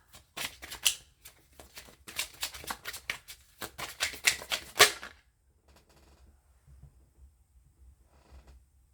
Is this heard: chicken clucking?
no